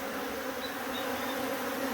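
Bees swarm in a feeding frenzy on the ground, a dense, continuous buzzing drone from many insects, close and steady, with no voices.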